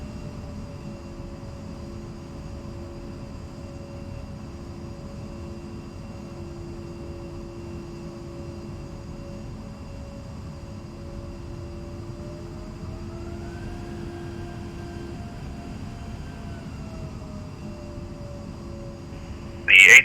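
Twin A-10C jet engines hum at idle while taxiing in the DCS World flight simulator, a steady low drone with a faint whine that rises slightly partway through, ending in a brief loud burst.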